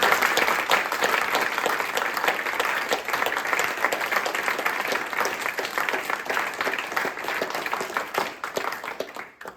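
Sustained applause from a seated audience at the close of an arts-funding panel discussion, dense steady clapping lasting throughout at a fairly loud, even level before tapering slightly at the end.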